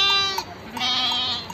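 Two or three close, wavering bleats from a black-and-white Sakız sheep, loud and nasal, with short pauses between them.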